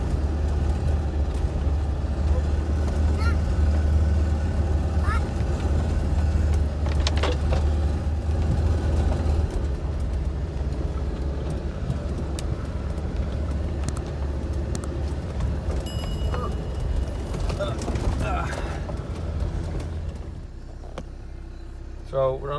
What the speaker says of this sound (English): the wheels slip on them. And he's trying to get grip because we're going uphill